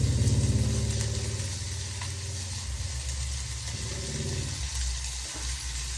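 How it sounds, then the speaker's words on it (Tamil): Steady sizzling and hissing of tomatoes, garlic and onion sautéing in a pan, fairly close, with a low rumbling undertone and occasional stirring clatter, no voices. "ஒரு ரெண்டு தக்காளியை இதில் வதக்கிடலாம்"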